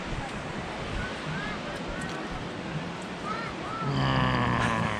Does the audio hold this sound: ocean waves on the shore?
yes